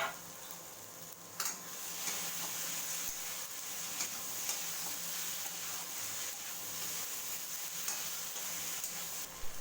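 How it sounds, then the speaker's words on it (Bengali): Fried broccoli and potato pieces being stir-fried with spices in oil, giving a steady close sizzle with scraping stirs and occasional louder clatters of a spoon against the pan. "এবার এতে ভেজে রাখা ব্রকলি এবং আলুটা দিয়ে ভালো করে কষিয়ে নেব।"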